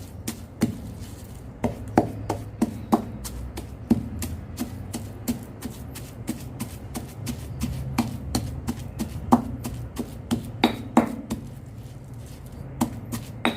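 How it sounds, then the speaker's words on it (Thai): A pestle pounds curry paste with sugar in a mortar for an old-style Thai curry, a steady run of quick, close, dull thuds with light clacks, repeating at a brisk, even rhythm without speech. "แล้วก็ตำไป พร้อมกับน้ำตาล"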